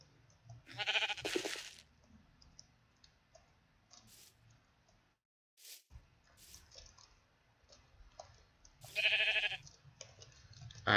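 A Minecraft sheep bleats in two short nasal bursts, once near the start and again later, set among quiet clicking and dripping game sounds.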